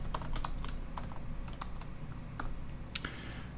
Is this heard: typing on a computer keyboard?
yes